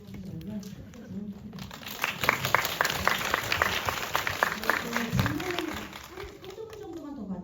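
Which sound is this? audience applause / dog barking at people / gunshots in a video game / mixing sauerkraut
audience applause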